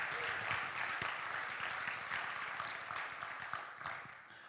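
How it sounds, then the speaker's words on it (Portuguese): A church congregation claps for Jesus, a moderate round of applause with distinct individual claps that fades slightly toward the end. "Seria pedir muito dar uma salva de palmas para Jesus?"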